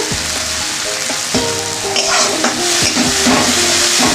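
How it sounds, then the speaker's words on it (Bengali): Spice paste frying in oil in a pan for a pumpkin and jackfruit-seed shukto, loud continuous sizzling with repeated scraping strokes of a spoon stirring, close up and without speech. "মশলা যতক্ষণ তেল না বেরোবে ততক্ষণ কষাইতে থাকবে"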